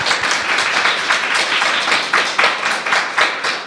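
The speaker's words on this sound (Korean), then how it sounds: "우리 박수로 환영하겠습니다" A church congregation applauding in welcome during a worship service, a steady dense patter of many hands clapping, fairly loud and sustained throughout.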